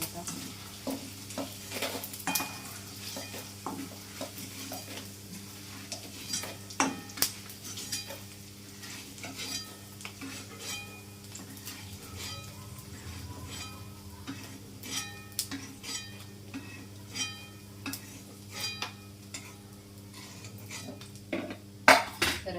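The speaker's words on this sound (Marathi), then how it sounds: "चला अशा प्रकारे आपण पूर्ण डिंक तळून घेऊया" Edible gum (dink) fries in a pan for fenugreek ladoos, a continuous close sizzle under frequent metallic scrapes and clinks of a spoon stirring against the pan, with a steady low hum throughout.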